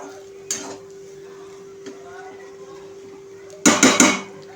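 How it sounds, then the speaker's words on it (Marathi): A spoon stirs fish roe (gaboli) in a pan, giving a few brief metallic scrapes and clinks, one early and a cluster of sharper ones near the end, over a quiet steady hum. "आता ही व्यवस्थित आपण मिक्स करूया।"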